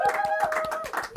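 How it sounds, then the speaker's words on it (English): Sparse clapping after donors and sponsors are thanked at a virtual event, a handful of separate hand claps over a steady tonal hum and faint background voices. "Please give a big round of applause for all of this evening's donors and sponsors"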